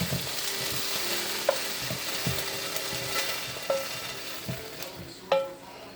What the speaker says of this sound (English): empty the beef into this bowl